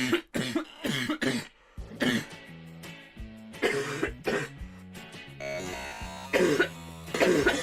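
Harsh coughing bursts come close together near the mic, followed by rougher throat sounds and tonal noises in between.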